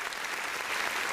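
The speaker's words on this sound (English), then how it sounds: "Can we clap it up for that, please?" Steady applause from a studio audience on a talk show, a continuous even patter of many hands clapping with no break for the whole short stretch.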